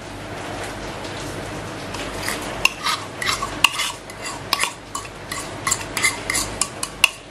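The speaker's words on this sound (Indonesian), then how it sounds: "Kita aduk sebentar supaya pisangnya itu menyebar." Sliced bananas stirred in a pot of boiling liquid, with irregular scraping and clinking taps of a utensil against the pot over a soft bubbling hiss, close and alone without talk.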